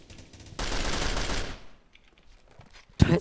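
Rapid automatic AK rifle fire in the block-built shooter Blockstorm on a bombed-out map, a dense loud burst for about a second that tails off, then a sharp single shot near the end.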